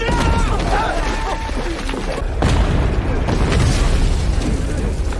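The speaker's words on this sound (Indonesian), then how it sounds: "Lalu tidak lama mereka dihujani bom oleh tentara Jepang." Loud, continuous booming blasts of bombs exploding in a war film, with dense rumbling bursts filling the scene and no clear gaps.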